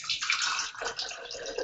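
Water poured from above through a water-structuring funnel into a tall glass makes a close, steady rushing splash that lasts under two seconds.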